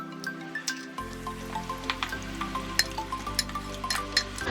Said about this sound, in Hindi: जो 2 प्याज हमने फ्राई की थी उसका पेस्ट बना लिया था, वो हम इसमें शामिल कर देंगे और अच्छे से मिक्स कर देंगे।